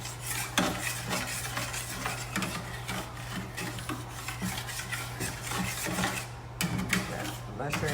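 Spoon scraping browned bits from the bottom of a pan while making smothered hamburger steak, repeated rasping strokes over a low steady hum, close and fairly loud, with some talk alongside.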